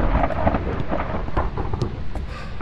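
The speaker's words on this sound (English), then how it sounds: "that was a thunder." Thunder from the ghost-hunting game Phasmophobia rolls as a long, loud, steady rumble with rain-like hiss and no speech.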